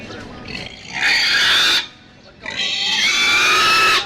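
Pigs about to be slaughtered let out two long, loud, shrill squeals separated by a short pause, close by and piercing.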